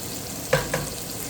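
Jumbo shrimp fry in garlic butter in a pan with a steady, low sizzle, broken by two brief scraping stirs close by.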